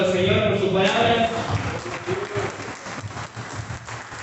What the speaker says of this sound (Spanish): ¿Alguien puede dar un aplauso al Señor por su palabra?